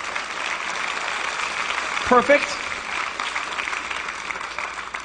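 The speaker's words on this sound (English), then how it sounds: "Give him a round of applause." Audience at a corporate comedy show applauding a volunteer called up from the crowd, steady clapping with a brief voice speaking over it midway.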